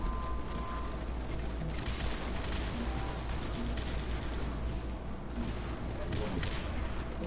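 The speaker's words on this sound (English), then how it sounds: "There's too many AA guns." Anti-aircraft guns pound continuously in a video game, a dense, noisy barrage of overlapping firing that keeps going without letup, with a voice briefly heard over it.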